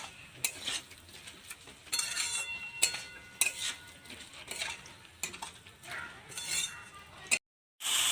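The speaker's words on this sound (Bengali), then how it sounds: "এবার এগুলো সব দিয়ে একটু নেড়ে নেবো।" A spoon stirs salt and chili powder into a pan of spices while cooking banana flower with shrimp. Soft, irregular scrapes and metallic clinks sound over a faint sizzle, and the clip ends with a brief silence.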